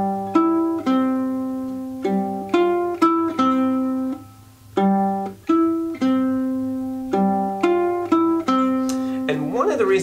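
Guitar part with open strings left ringing, a plucked open third string sustaining under repeated picked notes in a steady rhythm, close and clear, with a busier strummed flourish at the end.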